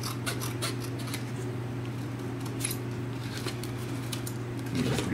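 Scissors cut through cardboard board for a CD mailer, trimming an overhanging flap; a run of close, crisp snips over a steady low room hum, with no talk.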